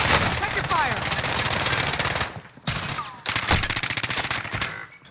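Rapid bursts of automatic machine gun fire in the Call of Duty Warzone video game, dense and loud rattling volleys that pause briefly and resume, with occasional player voices over the shooting.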